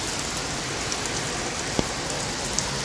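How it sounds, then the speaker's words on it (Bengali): Heavy rain pours down on an open rooftop terrace in India, a dense, steady hiss of drops with a few louder splashes, continuous and close all around. "ধারে ঝমঝম করে বৃষ্টি হচ্ছে।"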